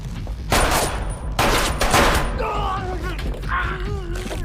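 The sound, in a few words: gunfire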